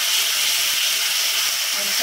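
Onion paste hits hot oil in a kadhai, giving a loud, dense, continuous sizzle and crackle that stays steady throughout.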